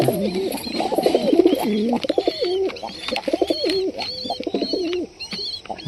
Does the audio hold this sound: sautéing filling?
no